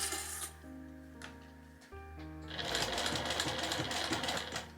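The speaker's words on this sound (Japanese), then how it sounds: "最後一気に縫っていきます" A sewing machine stitches a shoulder strap, first in short stop-start bursts, then running continuously and close up in one steady final pass.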